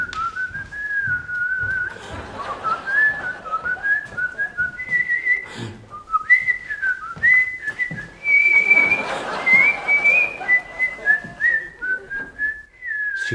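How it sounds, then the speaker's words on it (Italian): A person whistles a meandering melody while working, close and clear, with pitch sliding between notes and short pauses for breath. "la smetta di fischiare mentre lavora"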